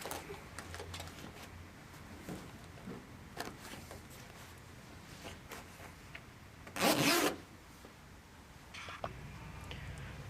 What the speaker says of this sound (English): Zipper back up.